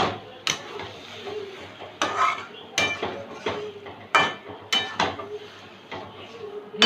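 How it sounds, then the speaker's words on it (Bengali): Spoon scraping and clinking against a pan while ghee is stirred into moong dal with ridge gourd, sharp irregular knocks and clinks repeating every half second or so, close and fairly loud over a soft background rustle. "এবার একটু ঘি দেব। ঘিটা একটু মিশিয়ে নেব।"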